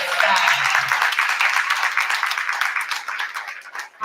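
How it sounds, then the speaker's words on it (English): An audience at a school Black History Month program claps for the school staff, loud sustained applause from a nearby crowd with some voices mixed in. "Please clap it up for the staff."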